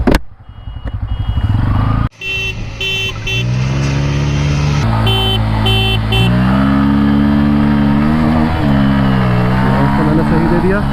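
A Pulsar N160 and a Yamaha MT-15 v2 launch in a drag race with loud, close engine revving that climbs in pitch through several gear shifts after a brief pause, with no talk.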